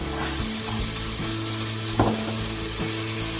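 Curry mixture with dissolved tomato sizzling in oil in a pan, a loud, close, continuous frying hiss with a few soft stirring scrapes.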